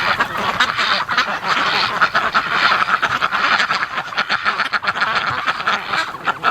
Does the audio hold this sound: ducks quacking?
yes